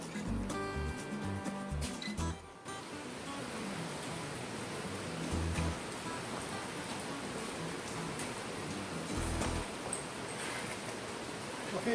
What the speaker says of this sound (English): it's pouring rain right now